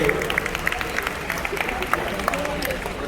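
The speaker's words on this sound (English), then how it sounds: "Let's give him a round of applause." Crowd applause for the mayor at an outdoor Africa Day celebration in Houston, a short burst of scattered clapping mixed with cheering and crowd murmur.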